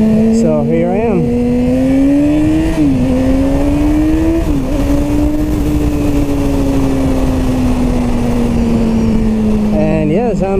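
A Yamaha R6 sport motorcycle fitted with a Radiant short exhaust pipe roars loudly and close, revving through gear shifts then holding a steady high-pitched cruise, with wind buffeting throughout.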